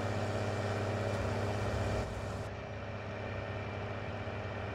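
Caterpillar M500 tractor engine turning over and catching in Farming Simulator 19, a steady low mechanical drone that drops slightly in level halfway through and settles into an even idle, with another tractor running nearby.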